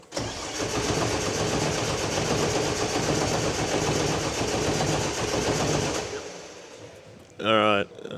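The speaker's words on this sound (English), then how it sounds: "crank it over a bit to see if it builds oil pressure" Turbo Barra engine in an R33 Skyline being cranked over without fuel to build oil pressure, a steady loud churning drone for about six seconds, then stopping, followed by a brief short burst.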